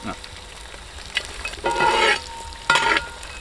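Coconut pieces fry in a pan with green chillies, a soft steady sizzle broken by two loud scraping stirs of a spoon against the pan, close by.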